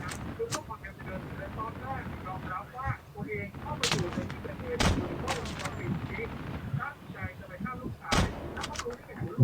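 Gunfire in a video game aimed at a tank, sharp loud shots and bangs scattered irregularly through the clip over continuous background chatter and game noise.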